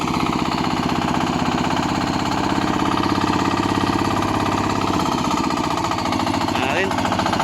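A hand tractor engine runs at close range in a field area, its loud, steady rapid chugging dominating throughout, with a slight change in tone near the end.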